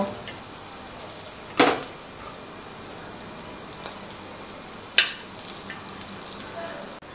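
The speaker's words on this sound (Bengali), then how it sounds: "এবারে আরেকটা দিক আমি এরকম হালকা করে একটু ভেজে নেব" Veg frankie filling fries gently on its second side in a pan with a soft, continuous sizzle, broken by two sharp utensil clinks against the pan.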